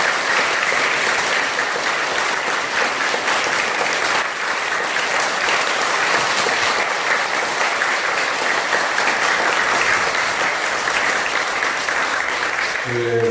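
A congregation at a Buddhist dharma service in the Bulgwang temple lobby applauds its chairperson with loud, sustained, even clapping that fills the space for over ten seconds.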